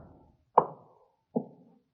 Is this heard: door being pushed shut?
yes